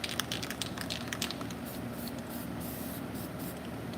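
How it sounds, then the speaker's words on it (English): Yellow spray paint hissing from an aerosol can in short bursts, then a steady close spray, with no talking. "I always like to line my finger to make sure I'm spraying in that direction"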